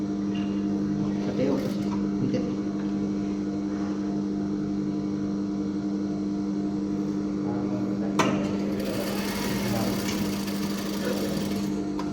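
A sewing machine runs steadily while stitching a shirt collar, giving a continuous whirring mechanical drone with a brief sharp click partway through, and a voice speaks over it.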